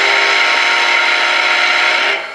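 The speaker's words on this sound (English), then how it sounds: "Wabash 6 chime." Wabash six-chime steam whistle reproduced by a TCS WOW Heavy Steam model train sound decoder: one loud, steady, rich chord held for about two seconds before it cuts off.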